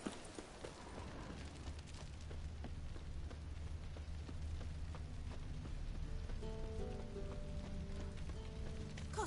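Steady rainfall in The Witcher 3 video game, a constant close hiss of rain on surfaces with faint hoof clops and soft tones later on, no talking.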